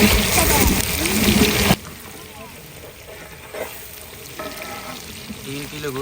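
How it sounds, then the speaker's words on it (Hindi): Three kilograms of onions browning in a large pot for degi rice cooked in a fifteen-kilogram batch, a loud dense sizzle that drops abruptly to a softer frying hiss with stirring scrapes and occasional spoken voice. "3 किलो प्याज, इसको अच्छी तरीके से हम ब्राउन करेंगे।"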